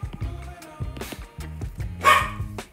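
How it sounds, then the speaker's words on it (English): A dog barks in a quick run of sharp woofs, fairly close, one louder yelp standing out near the end, with faint low background hum. "that was my dog."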